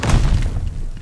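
Grenade explosion in the video game Call of Duty Vanguard, a loud, close, booming blast with a heavy low-end thud and rumble that fades over about a second.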